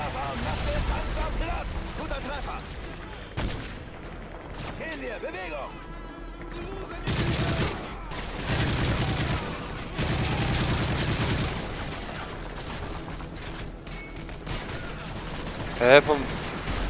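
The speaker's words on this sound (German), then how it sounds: "Amerikanisches Team, ein russischer Panzer feuert auf die Brücke." Battle sounds from Call of Duty: Modern Warfare 3, with a Russian tank firing on a bridge amid gunfire, come in loud bursts and booms, including a sharp blast near the end, while someone talks over much of it.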